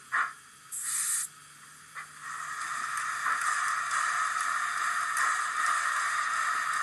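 Air brakes on a sound-fitted Rapido LBSCR E1 model steam locomotive: two short sharp hisses, then a sustained, loud broadband rushing hiss that carries on to the end.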